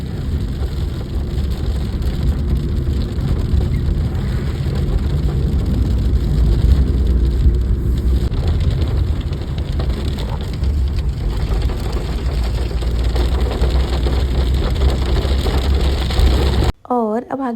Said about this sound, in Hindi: ये बर्फ़ की बूंदाबांदी और भी तेज हो गई थी।